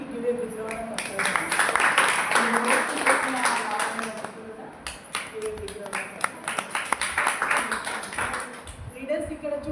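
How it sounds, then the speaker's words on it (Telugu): An audience in a meeting hall bursts into applause for a presenter, dense clapping rising in two waves, with voices talking over it. "మేడంకి give a big round of applause."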